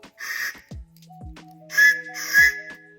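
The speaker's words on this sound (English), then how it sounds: "Whistle." Small survival kit whistle blown in several short, sharp shrill blasts up close, the last two loudest, with light handling knocks between them.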